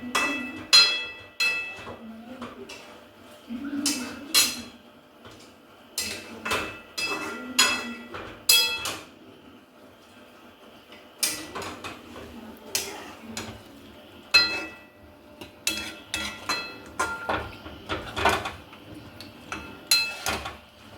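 A cooking utensil stirs and flips mutton in a pan, making repeated metallic clinks and scrapes in irregular bursts, with brief pauses between strokes, close and moderately loud.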